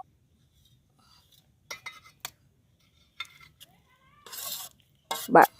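A spoon works beaten egg into potato in a bowl, giving a few scattered scraping and clinking bursts between quiet gaps, the last one louder and close.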